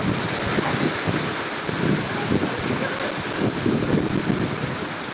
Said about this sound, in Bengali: এক নাগাড়ে বৃষ্টি হয়েই যাচ্ছে এবং তার সাথে ঝোড়ো হাওয়া